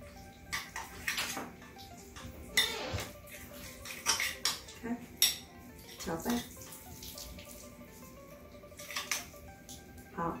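A sesame-oil marinade for lamb ribs is mixed in a bowl, giving faint, irregular clinks and scrapes of a utensil against the dish.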